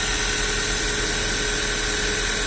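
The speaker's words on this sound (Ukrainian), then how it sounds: "стартуємо машинку, дивимося, яка просадка і що нам видасть генератор. Машинка завелася." A car engine running steadily after starting, with a constant hum, whine and broadband noise, close and loud and without voices.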